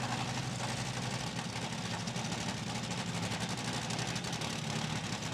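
A nitro funny car idles up to the starting line at a drag strip, its engine a steady, loud, rumbling burble with fast rhythmic pulsing throughout.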